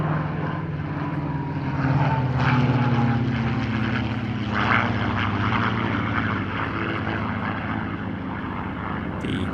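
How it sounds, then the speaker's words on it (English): A Spitfire and a CA-18 Mustang, the Australian-built P-51D, pass at an airshow with the droning growl of piston propeller engines, a loud, steady layered hum that swells slightly as they go by. "A Spitfire with the CA-18, the Australian licence-built version of the P-51D Mustang"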